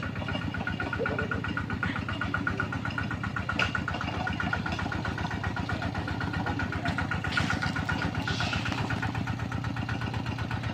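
An e-taek two-wheel farm tractor engine runs steadily nearby with a low, rapid, even chugging pulse the whole time.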